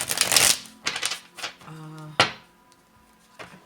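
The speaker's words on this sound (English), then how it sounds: "I picked it up to shuffle it" A tarot-style card deck gets shuffled indoors in a few quick riffling, flapping bursts, close and fairly quiet, with small pauses between them and no talk.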